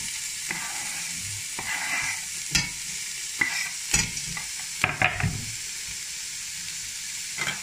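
Onions and ginger fry in olive oil in a pan over low heat for rougail saucisse, a steady soft sizzle broken by several sharp scraping stirs of a utensil against the pan.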